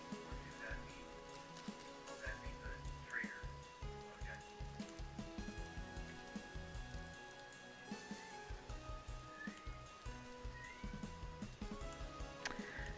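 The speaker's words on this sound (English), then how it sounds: "Oh, Chell's meowing" A pet cat meows several times during a session of the survival game Vintage Story, short cries rising over game sounds and background noise, with a person talking nearby.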